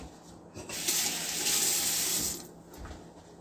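Tap water runs steadily into a sink as food is rinsed under the stream, a close, full splashing rush that swells in the middle and eases off toward the end.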